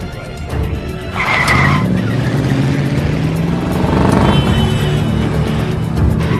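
A car racing away during a police chase in a film, loud tire screeches and skidding over a steady engine roar, close and sustained throughout.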